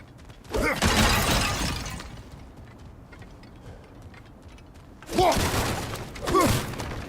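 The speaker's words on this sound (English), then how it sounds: "back to smashing through things for fun and profit." Objects being smashed apart in God of War Ragnarök, with loud crashing, shattering bursts near the start and again twice near the end, separated by quieter rumbling ambience.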